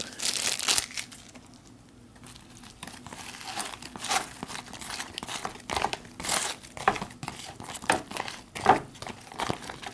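A small ration spoon stirs rehydrated escalloped potatoes inside a crinkly plastic Long Range Patrol ration bag, giving close, irregular bursts of crackling plastic and scraping, loud and alone.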